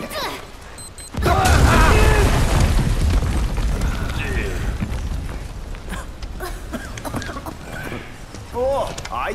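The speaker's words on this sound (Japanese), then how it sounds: "爆発！" A loud, deep bomb explosion booms suddenly in Final Fantasy VII Remake and rumbles on for several seconds, with a voice speaking faintly over the fading blast.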